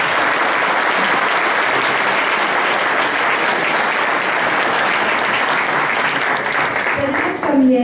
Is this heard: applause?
yes